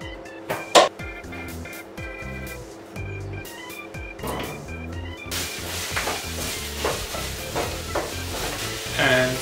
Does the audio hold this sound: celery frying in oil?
yes